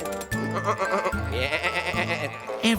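A cartoon sheep bleats in a wavering, pitched voice alongside other farm-animal sounds, close and clear with a tonal backing under it.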